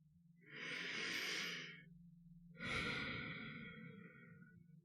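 Two slow, deliberate breaths taken close to the microphone, a long airy inhale and then a long exhale, soft and calm, with a low hum underneath.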